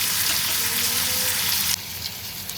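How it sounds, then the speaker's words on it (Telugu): Raw banana curry pieces sizzle steadily in a hot pan, a dense continuous frying hiss that drops slightly softer near the end, with no voices over it. "మంచిగా పచ్చివాసనంతా పోయే వరకు వేయించుకోవాలి."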